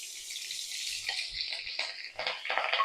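Veldt grape stems frying in a little oil in a pan on the stove with tamarind, a steady bright sizzle throughout, with a few soft stirring knocks and scrapes.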